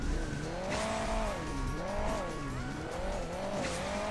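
Video game car in Hill Climb Racing 2 driving with a steady engine hum that rises and falls in wavering pitch, with tire squeal over a continuous background rumble; no talking.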